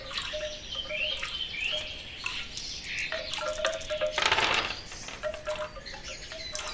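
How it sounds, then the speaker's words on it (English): Water drips fall in a slow, scattered series of small droplet plinks, fairly faint against a quiet background with some high chiming tones, in a 3D stereo attention-training soundscape. "Water dropping."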